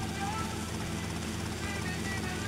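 Helicopter in the video game GTA: Vice City, a steady rotor drone with rhythmic low thumping running continuously, a constant mid-distance hum with a voice talking over it.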